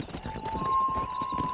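Horses gallop in the Red Dead Redemption video game, a quick rhythmic clatter of hooves close up over a low rumble, with a faint steady tone running underneath.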